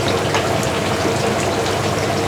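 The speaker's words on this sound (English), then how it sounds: "Add a little bit more water" Water poured into a pot of simmering Thai green curry with fish sauce, a steady continuous splashing gush lasting a couple of seconds, close and fairly loud with no talking.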